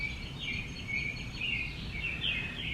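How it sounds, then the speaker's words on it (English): A bird calls outdoors from somewhere overhead, repeated thin chirping phrases at a moderate distance over a soft low background rumble. "Do you guys hear the bird up there?"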